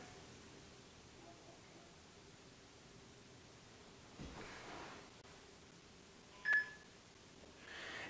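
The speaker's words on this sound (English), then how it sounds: "You're going to receive an audio and tactile notification from the phone that you have selected a new plant." A phone gives a short, faint electronic beep as a new cannabis plant is selected in an inventory app, a single brief tone over quiet background hiss.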